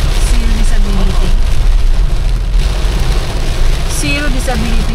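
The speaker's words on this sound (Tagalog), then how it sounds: "sobrang ulan, napakalakas ng ulan" Heavy, very loud rain pours steadily throughout on a trip to Panganiban, a dense constant roar with faint voices and tonal sounds mixed in underneath.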